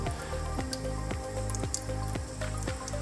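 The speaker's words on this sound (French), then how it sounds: "J'ouvre le robinet de façon à avoir un jet d'eau froide ni trop fort ni trop faible" Cold tap water running into a water filter cartridge, heard as a close, rhythmic gurgling with repeated bubbly plops about every half second over a steady low wash of flow.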